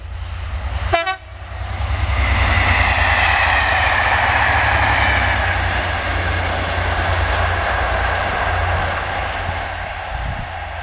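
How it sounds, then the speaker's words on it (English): An East Midlands passenger unit on a Liverpool Lime Street to Norwich service passes close by with a loud, sustained rushing roar, opened by a brief horn toot, the wheel and rail noise holding steady for several seconds. "That's the usual East Midlands unit running from Liverpool Lime Street via Nottingham, Peterborough, March, Ely and down through to Norwich."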